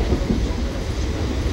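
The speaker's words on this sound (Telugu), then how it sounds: "బాగుందా ట్రైన్?" Train running on rails, a close, steady rumble and rattle of the carriage under way with no break.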